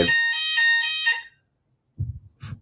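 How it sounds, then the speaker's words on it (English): A fire alarm sounds a loud, harsh electronic tone for about a second, then cuts out, followed by two short low bursts after a pause. "fire alarm."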